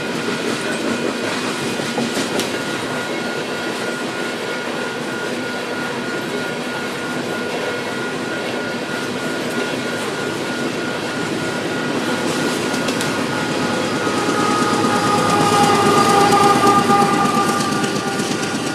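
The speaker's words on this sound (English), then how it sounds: "we see this eastbound coal train curving into the Marysville subdivision" A Union Pacific eastbound coal train rolls steadily past on a triple-track mainline near Gibbon, a continuous loud rumble and clatter of wheels that swells slightly toward the end, with no talk.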